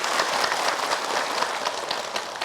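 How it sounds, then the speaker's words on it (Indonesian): A studio audience at an Indonesian religious television program claps steadily, a continuous wash of applause filling the short stretch at an even level without voices. "Boleh tepuk tangan Ibu."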